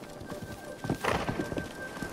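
Horse hooves clip-clop in uneven steps in Zelda: Breath of the Wild, a handful of hollow knocks over a low game background, moderately close with no talk.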